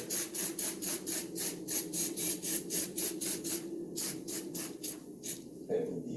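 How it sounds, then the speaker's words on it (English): Short bursts of butter cooking spray hiss into a pan in a quick repeated rhythm, about a dozen sharp sprays close by, ending with a faint clatter. "Spray some butter so it won't stick"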